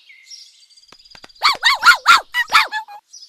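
A cartoon dog in a 3D animated folk tale gives a loud run of about six close, harmonic barks after a few faint squeaks, with no talking.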